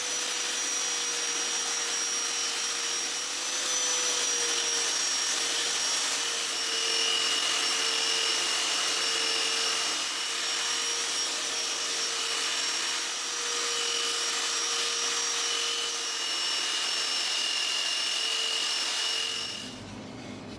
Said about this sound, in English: And now I can sand it on that surface